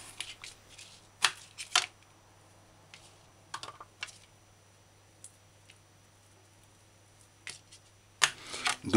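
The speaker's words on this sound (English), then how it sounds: "you can just pop the florets off or you can cut the florets off" Knife cutting broccoli florets off the crown: scattered crisp snips and crunchy clicks in short clusters, with long quiet gaps between and a louder burst at the end.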